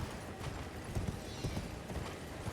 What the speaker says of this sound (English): There we go, horse.